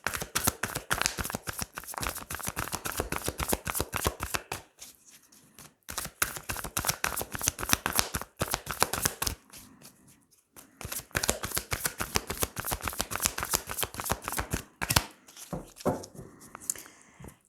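Tarot cards are shuffled by hand in rapid, crisp riffling bursts, close and loud, broken by brief pauses and a couple of quieter gaps that suggest cutting the deck.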